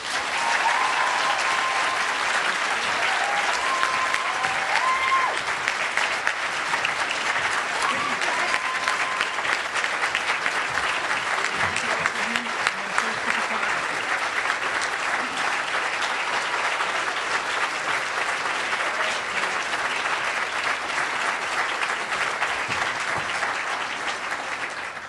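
A large audience applauds steadily at an awards event honoring the singer and diabetes activist receiving the Disability Rights Legal Center's Dream Award. The clapping is dense and sustained throughout, with no voices over it.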